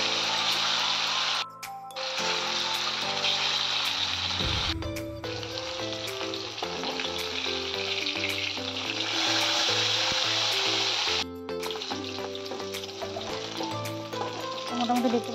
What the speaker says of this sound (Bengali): এরপর আমি একটা করে মাছগুলো ছেড়ে দিচ্ছি। এটাকে খুব লাল লাল করে আমি ভেজে নেব।